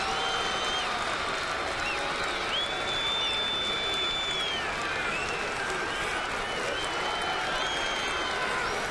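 Fired-up crowd at a 2009 Toronto at New York Yankees baseball game, a loud sustained roar of cheering and clapping across the stadium with whistles rising through it, continuous for the whole stretch.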